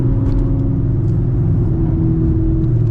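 A 900 hp Chevrolet Camaro ZL1 engine revs while misfiring during a drive, a loud, close rumbling drone with uneven pulsing through the short stretch and no talk.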